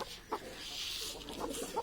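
Soft, scattered clucks from chickens in a fenced enclosure sound at a distance over a hissing, noisy background.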